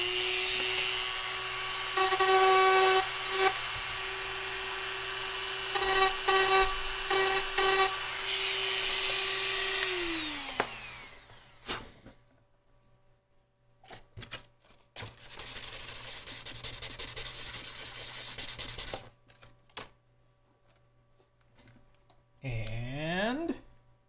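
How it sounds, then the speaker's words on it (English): A Dremel rotary tool grinding a circuit board for an NES development cart, a loud high-pitched whine that holds steady then winds down, followed by a second shorter burst and brief bench clatter, close up. "Dremel time."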